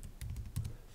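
Several quick keystrokes on a computer keyboard, close and fairly quiet, tapping in a brief uneven cluster.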